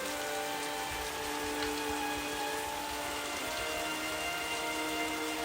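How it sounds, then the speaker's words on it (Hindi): Steady rain pattering on a surface, a dense even hiss with scattered drops throughout, with no voices. "बारिश की आवाज के बीच"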